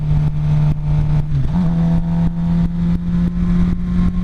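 Motorcycle engine running close and loud, a steady mid-pitched drone that dips briefly then rises again as the rider accelerates on.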